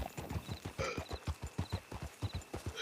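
A horse's hooves clip-clop in a steady walking rhythm, close and fairly loud, with regular strikes throughout and faint jingling or bell-like tones above them.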